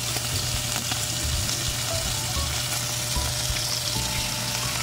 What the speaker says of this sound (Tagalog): ganito magluto ng tuyo